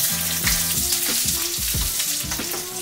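Dried chile de árbol toast in a hot sauté pan, a continuous close sizzle with repeated stirring scrapes and brief clatters as the chiles are pushed around.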